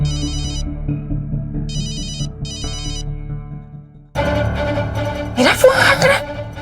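A mobile phone ringtone chirps in repeated bursts in a domestic drama scene, clear and close, before louder music and voices take over the second half.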